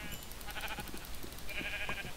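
Sheep bleat faintly in a Minecraft-style video game, a couple of short wavering calls over a steady game soundscape, quiet and without talk.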